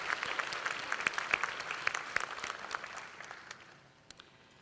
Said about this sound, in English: How about we give everyone a round of applause for celebrating 50 years of service?